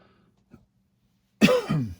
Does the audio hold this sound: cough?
yes